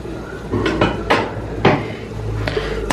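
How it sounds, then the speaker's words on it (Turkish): Several metallic clanks and clatters of a lid being set on a pot of boiling chicken, close by, with a quieter rattle between knocks. "Tavuğum haşlanıyor. Kapağını kapatayım."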